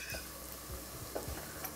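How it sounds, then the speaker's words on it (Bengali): Onions frying with spices for a pressure-cooker mutton curry, a quiet crackling sizzle with a few soft stirring knocks, close and brief. "আর পেঁয়াজটা এখানে আমাদের ভালো করে ভাজা হচ্ছে।"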